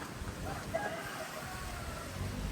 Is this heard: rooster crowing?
yes